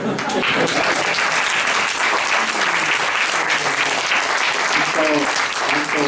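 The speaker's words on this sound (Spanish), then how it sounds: "debemos darle un aplauso a Maricano" An audience at a literary tribute event applauds steadily, a dense, loud wash of clapping sustained throughout, with faint voices mixed in beneath.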